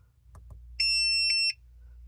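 A 4-in-1 gas, CO2, temperature and humidity gauge gives a shrill electronic alarm tone lasting under a second. Two soft clicks come just before it, and a low steady hum runs underneath.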